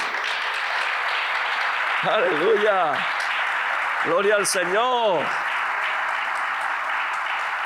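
Steady applause from a church congregation fills the whole stretch, loud and continuous, while a preacher calls out over it twice.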